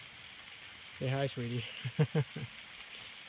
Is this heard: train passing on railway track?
no